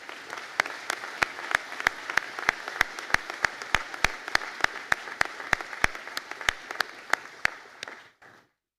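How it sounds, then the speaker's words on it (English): A graduation conferring ceremony audience applauds steadily, with a few sharp nearer claps standing out from the crowd before it fades out. "be upstanding for a round of applause from everyone"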